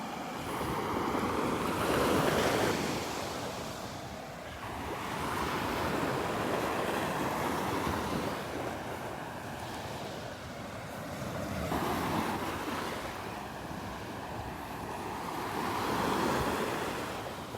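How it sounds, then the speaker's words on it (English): Storm-churned ocean waves break on the beach at Delnor-Wiggins, swelling and fading in long, loud surges of roaring surf with wind buffeting the microphone, heard close with no voices. "The water's pretty churned up here."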